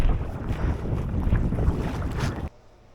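Wind buffets the microphone while paddling a kayak on open water in roughly 9 mph winds, a steady low rumbling roar that cuts off abruptly near the end, leaving quieter background.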